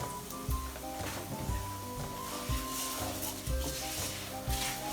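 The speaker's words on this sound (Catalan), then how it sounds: "Afegim l'arròs, remenem una miqueta," Rice added to a hot pan for a mushroom (cep) risotto, sizzling steadily while a spoon stirs it with regular scraping strokes against the pan, loud and close with no talk.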